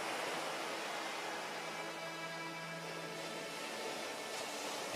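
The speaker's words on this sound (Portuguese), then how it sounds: "E agora é como se fosse uma chuva mesmo." Steady rain pours down with an even, dense hiss throughout, a soft background wash in a guided meditation.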